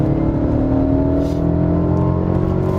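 A Mercedes-Benz CLA 250 4MATIC with all-wheel drive builds speed ahead of a corner, its engine note a loud, steady drone that climbs gradually in pitch, heard close and continuous with no talking.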